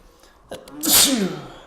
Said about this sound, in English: Sneezed there. away from the mic.